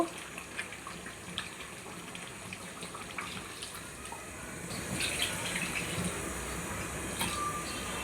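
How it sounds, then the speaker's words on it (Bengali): Water pours steadily into a cooking pot of partly cooked, sautéed chicken, a continuous splashing flow that grows slightly louder toward the end, with no voices. "এখন পানি দিয়ে দেব।"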